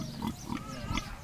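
A wild hog grunts close by in three short, rough bursts spaced about a third of a second apart.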